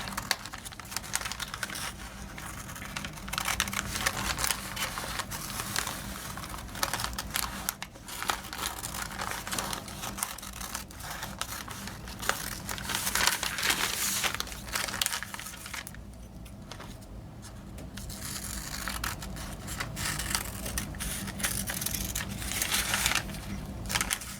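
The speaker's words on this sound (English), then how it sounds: "The next thing you do is you're going to cut it out, but not on the line." Scissors cut around a fusible web appliqué pattern, leaving a margin beyond the line, giving continuous close crinkling and snipping of paper-backed web with no talking.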